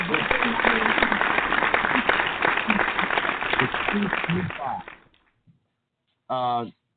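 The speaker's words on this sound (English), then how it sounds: "They get a round of applause." A round of applause on a barbershop talk radio show rings out for about five seconds, dense and loud, then cuts off abruptly into silence before someone briefly speaks.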